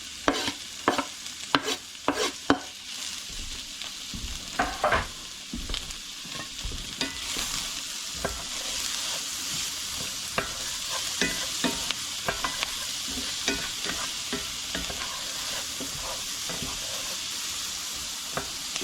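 Onions sauté in butter in a cast iron pan, giving a continuous close sizzle with frequent stirring scrapes and taps, busier at first and then settling into a steady fry, with no talking.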